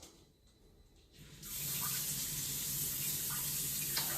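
A Luxe Bidet Neo 320 switches on after a quiet moment and sprays water in a loud, steady hiss that carries on without a break, close to the listener.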